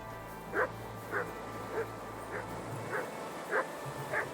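In Kingdom Come: Deliverance II, a dog barks seven times in a fairly regular rhythm, each bark short and moderately near, over a low ambient background hum.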